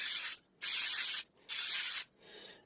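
Oil sprayed onto a foam air filter from a Janus Gryffin 250 motorcycle: three long, close hissing spray bursts separated by short pauses, with a quieter fourth burst at the end.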